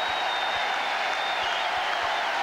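A large crowd at the Eurovision Song Contest applauds steadily, a dense wash of clapping heard alone with a faint high tone above it.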